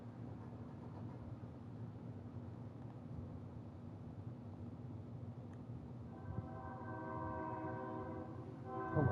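A deep, sustained train horn sounds in Kerbal Space Program, with strong harmonic tones rising in the latter part over a continuous low rumble and ending in a loud final swell.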